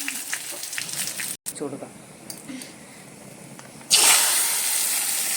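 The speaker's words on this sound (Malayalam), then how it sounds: "വറ്റൽമുളകും കറിവേപ്പില ഇട്ട് കൊടുക്കാം." Dried red chillies and curry leaves drop into hot oil for rasam and set off a sudden, loud, hissing sizzle near the end, after a quieter stretch of kitchen noise with a person talking.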